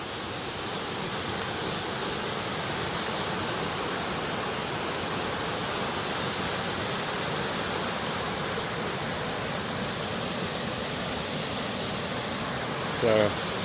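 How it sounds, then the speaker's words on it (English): Steady broadband rush of a waterfall beside a footpath, loud and continuous throughout with no pauses, with a brief knock near the end. "What a lovely waterfall."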